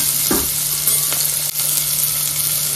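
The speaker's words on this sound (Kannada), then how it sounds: "ಇದನ್ನೆಲ್ಲ ಚೆನ್ನಾಗಿ ಎಣ್ಣೆಲಿ ಫ್ರೈ ಮಾಡ್ಕೊಳ್ರಿ." A ground paste of green chili, garlic, coriander, curry leaves and cumin sizzles in hot oil in a pan, a loud, steady, close frying hiss with faint stirring scrapes and no talking.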